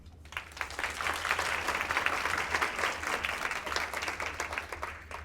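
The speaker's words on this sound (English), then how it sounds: "An applause for you all today." Applause from an audience at an International Women's Day event, a steady wash of many hands clapping at moderate distance for several seconds, with no talk over it.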